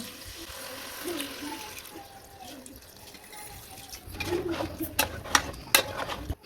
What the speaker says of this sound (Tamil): இப்போ இந்த எலும்பு வேகிறதுக்கு தேவையான அளவு தண்ணி சேர்த்துக்கலாம்